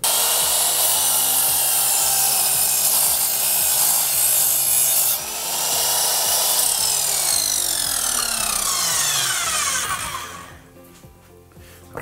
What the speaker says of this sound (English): Now I'm going to chop these on the chop saw.